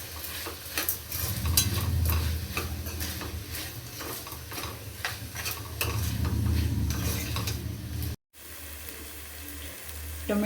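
Chopped tomatoes and onions sizzle in a pan while being stirred repeatedly, producing rhythmic scraping and crackling up close; the frying runs continuously, then cuts out abruptly for a moment before resuming more quietly.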